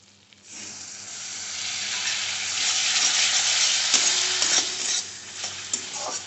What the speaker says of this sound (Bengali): মশলাটা কষাতে কষাতে না আমি এর মধ্যে একটু ডালের জলই ইউজ করব।